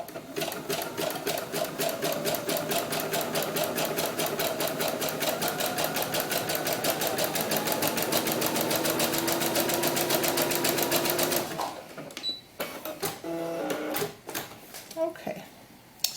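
Sewing machine stitching stretchy doll glove fabric runs steadily and close for about eleven seconds, a fast even rattle of the needle, then stops, leaving scattered light handling noises and a voice.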